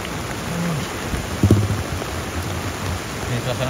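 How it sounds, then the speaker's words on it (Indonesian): Dense, steady hiss of heavy rain pouring down on a road in Indonesia, with a brief low rumble in the middle. "Ini suasana hujan lebat di Jalan Baru Morelaan Panjang"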